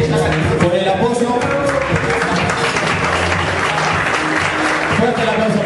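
Applause from guests at a restaurant event in Punta del Este, with loud, continuous clapping mixed with voices and background music throughout.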